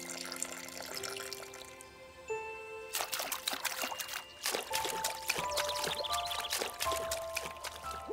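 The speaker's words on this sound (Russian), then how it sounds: "Пузырьки." Water bubbles and gurgles in a series of bright, watery pops and trickles, sparse at first and then busier, with a faint musical tone underneath.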